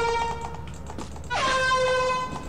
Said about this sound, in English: Piss it off with the air horn.